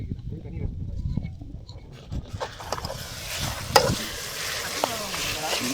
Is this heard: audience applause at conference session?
no